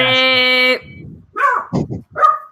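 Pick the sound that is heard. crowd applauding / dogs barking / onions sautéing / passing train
dogs barking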